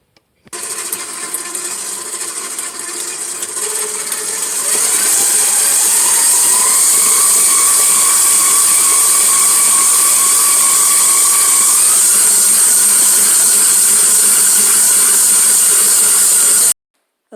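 An electric mixer whisks egg-free homemade marshmallow fluff in a loud, continuous whirring drone that steps up in intensity partway through, then cuts off abruptly near the end.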